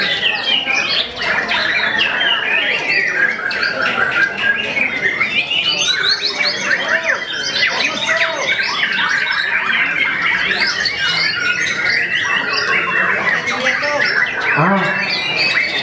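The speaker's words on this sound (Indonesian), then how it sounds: "Ini burung hias yang tadi pagi." A white-rumped shama (murai batu) sings at a songbird contest in Indonesia, pouring out loud, continuous squawks, chirps and whistles with other birds and faint crowd voices around it.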